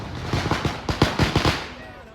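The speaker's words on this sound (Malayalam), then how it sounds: "പടക്കം പൊട്ടിച്ച് ആരാന്നപ്പോ ഞാൻ നോക്കണം." Firecrackers burst at a wedding in a quick string of sharp, loud pops lasting about a second and a half, then fade away.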